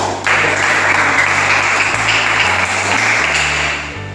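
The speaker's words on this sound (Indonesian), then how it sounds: "mari kita tepuk tangan bersama dulu" Applause from a group at a class presentation on green living, a steady broadband clatter of clapping lasting several seconds over a low hum, fading toward the end.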